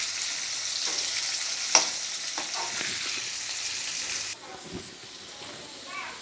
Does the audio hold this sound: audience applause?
no